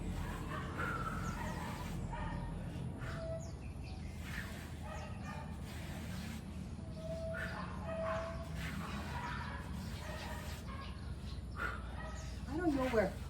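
Birds chirp and call in short bursts over steady background noise, with a dog barking and fowl-like calls mixed in.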